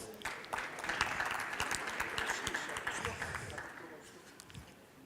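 An audience at a Tunisian tourism and digital technology conference applauds, a burst of scattered clapping that swells, holds, then thins out over several seconds, fairly faint and with some background murmur.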